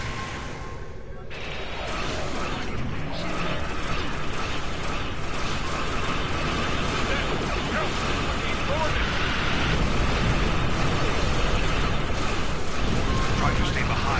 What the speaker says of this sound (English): Sending proton burst.